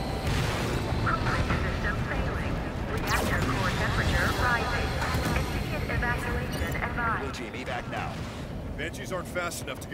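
Deep rumbling booms and blasts from a reactor explosion in Halo 5, loud and continuous at first and easing toward the end, with people talking over it.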